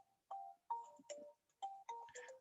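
A mobile phone ringing with a spam call gives a repeating electronic tone melody in short bursts. It is near and fairly clear, with no talking.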